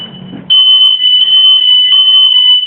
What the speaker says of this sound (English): we're gonna show you guys how these freaking alarms have been going off for like an hour straight